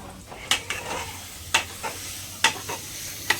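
Spices tempering for rice in a village home kitchen: a low steady sizzle broken by sharp, close clicks and scrapes of stirring at irregular moments, with no talking.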